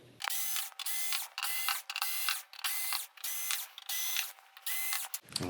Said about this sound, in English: we are going to get the screws removed. The ones that are just on this metal plate right here.